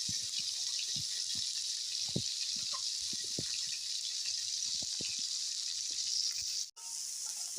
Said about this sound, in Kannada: ನಂತರ ಬಾಣಲೆಗೆ ಸಣ್ಣದಾಗಿ ಹಚ್ಕೊಂಡಿರೋ ಬೆಂಡೆಕಾಯಿನ ಹಾಕೋಣ